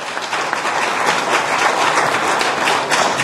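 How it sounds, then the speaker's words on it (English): Sustained applause from a crowd, dense steady clapping filling the whole stretch at a loud, even level. "Let's give a round of applause to Professor Nuwagaba."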